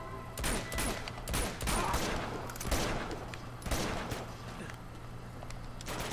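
Rapid gunfire fills a firefight in the video game Uncharted 2: dense, overlapping bursts and volleys crackle almost continuously, loud and close, with no pause across the whole stretch.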